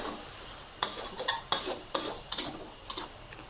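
Fermented pork sausage with egg and glass noodles stir-fried in sauce over medium-high heat, a soft sizzle broken by a run of sharp spatula scrapes and tosses against the pan, close by.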